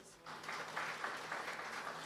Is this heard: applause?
yes